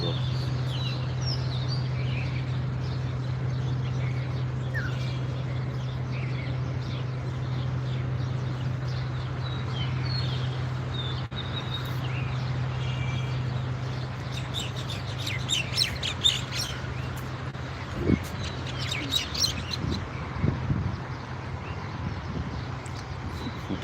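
Birds, likely mynas, chirp and call in a morning outdoor scene, faint and scattered at first and then busier in short bursts toward the end, over a steady low hum.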